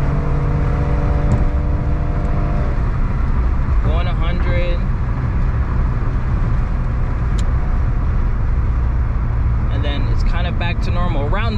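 Suzuki Wagon R kei car cruising on a New York highway at around 80 km/h, a steady loud engine and road drone with tyre rumble throughout, with someone talking over it.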